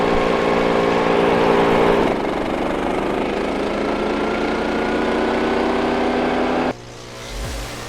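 A SPLIT-FIRE 4090 wood chipper engine idles at medium throttle, a loud, steady close drone that shifts pitch partway through, then drops sharply to a lower idle near the end.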